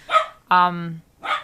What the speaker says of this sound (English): he's barking at the cat